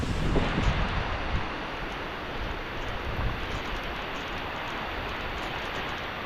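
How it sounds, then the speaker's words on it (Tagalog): Steady, broad rushing wind from a typhoon fills the air at moderate loudness over a lanzones orchard and rice fields, with a few louder gusts at the start. "Pero lumakas na naman po ang hangin"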